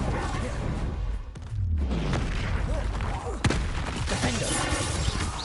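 Fiery Confringo spell blasts in Hogwarts Legacy combat, heard as booming bursts and whooshes within a constant dense din of battle sounds, with a sharp impact near the middle.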